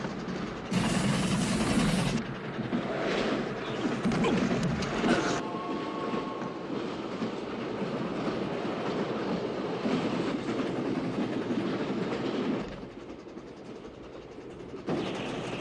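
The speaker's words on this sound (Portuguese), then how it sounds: "Cena do James Bond de ação no trem, que é muito boa." Train in an action scene from a James Bond film, with a steady roar of a moving railway car and clattering wheels running loud and continuous throughout, with brief tonal squeals near the start.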